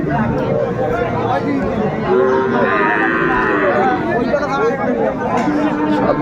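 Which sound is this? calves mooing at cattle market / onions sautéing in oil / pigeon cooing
calves mooing at cattle market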